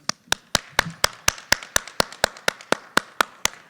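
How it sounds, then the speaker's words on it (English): Applause at a National Honor Society ceremony, heard as a single pair of sharp claps in a steady even rhythm, about sixteen crisp strikes close by rather than a crowd. "If you would mind standing so we can give you some applause."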